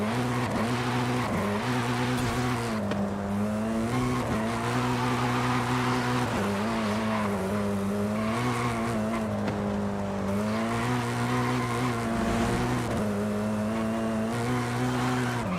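A 550-horsepower car drifting in Forza Horizon 5, its engine droning at a high, steady pitch that rises and dips with throttle changes, and tires squealing without a break throughout.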